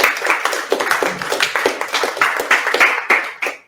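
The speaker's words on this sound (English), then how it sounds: "A round of applause." A lecture audience at a talk about galaxies and dark matter gives a short burst of hand clapping, loud and close, with individual claps standing out before it dies away.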